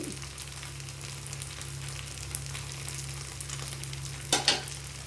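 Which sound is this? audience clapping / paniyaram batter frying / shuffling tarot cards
paniyaram batter frying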